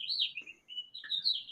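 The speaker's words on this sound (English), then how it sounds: "Can you guys hear the birds chirping in my..." Bright, high bird chirps in short bursts with a brief pause, fairly close and clear, with faint low background noise underneath.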